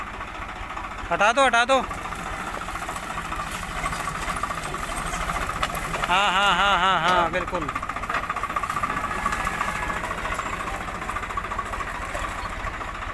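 A tractor engine runs steadily while clearing acacia trees along a rough rural track, a chugging mid-range drone with a knocking texture that rises in brief revving bursts, as people talk nearby over it.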